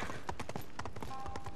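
Horse hooves clip-clop steadily at a trot in Ghost of Tsushima, a rapid regular beat of close thuds running throughout with no talk over it.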